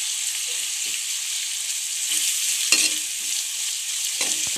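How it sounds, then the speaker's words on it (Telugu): Green chillies and onions fry on a low flame for a lady's finger curry, a steady high hiss of sizzling oil with a few soft scrapes of a spoon, close and alone without speech. "లో ఫ్లేమ్లో పెట్టుకొని వేపుకోండి ఫ్రెండ్స్."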